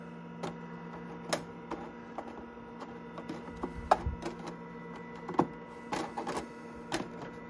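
The built-in printer of a 1985 Panasonic Executive Partner portable computer runs with irregular mechanical clicks, taps and brief whirs over a steady low electrical hum, close and fairly quiet, with no talking.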